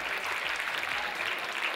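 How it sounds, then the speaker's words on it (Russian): Crowd applause at a KVN comedy contest show, a dense continuous clatter of many hands clapping together at a steady level. "Ирина Дончева, ваши аплодисменты!"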